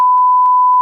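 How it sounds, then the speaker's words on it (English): A home telephone rings as an electronic tone: a steady pitch broken by short, evenly spaced pulses, close and clear with nothing else audible. "That is a phone ringing."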